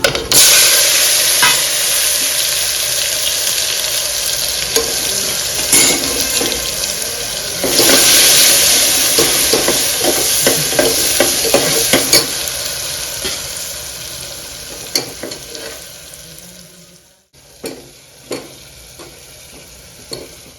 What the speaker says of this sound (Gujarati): અહીંયા મમ્મી શાક વઘારી રહી છે